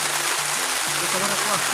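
Rain pours outdoors in a constant, dense hiss, with people talking nearby over it.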